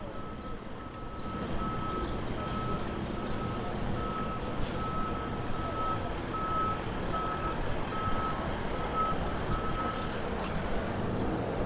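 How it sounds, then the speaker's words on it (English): A park sanitation truck in Central Park, New York, sends out a steady run of evenly spaced reversing beeps over a constant engine and street rumble, with a few faint higher tones above. "that's an official park sanitation truck."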